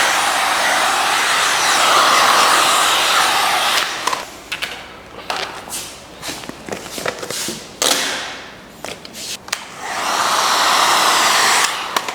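Heat gun warming vinyl wrap film on a car front bumper, a loud steady blowing roar at the start and again at the end, separated by quieter handling clicks and film rustles.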